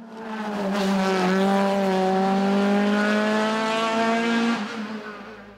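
A Norma M20 two-litre sports prototype race car howls loudly and close at a French hillclimb in Turckheim, its engine note rising steadily through the revs before a sharp gear change near the end, with no talk over it.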